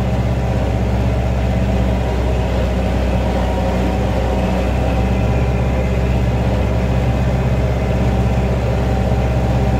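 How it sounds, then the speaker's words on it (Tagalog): A tractor engine drones loud and steady while plowing a muddy, straw-covered rice field, a deep continuous rumble heard from on board with no breaks. "dahil nakasakay tayo sa traktora"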